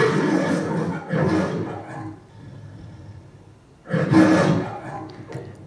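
A loud lion roar from the opening of the animated film All Dogs Go to Heaven, two long rumbling bursts near the start and a third after a brief lull, with no speech.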